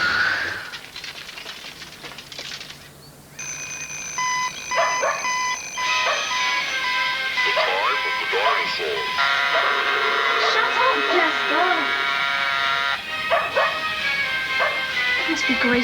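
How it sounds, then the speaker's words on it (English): An alarm clock rings in a house with a loud, sustained electronic beeping tone, while a dog yips and whimpers and a voice speaks over it. "It must be Grayson's alarm clock"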